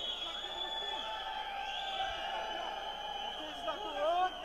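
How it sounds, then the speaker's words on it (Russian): Turkmen fans cheer and shout at a fight, a steady roar of crowd voices with rising yells, heard at a distance under nearby speech. "Да, слышим мы туркменских болельщиков."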